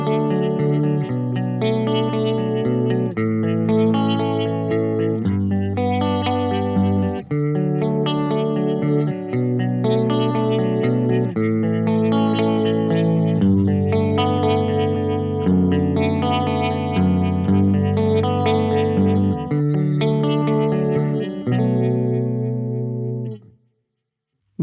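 Electric guitar played through a Fender Mustang Micro headphone amp on its Vibratone harmonic tremolo setting, with sustained chords pulsing and swirling steadily and loudly for about twenty seconds before ending abruptly.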